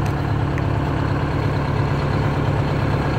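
A pickup truck engine idles, steady and loud, with a low even rumble that holds without change and no voices.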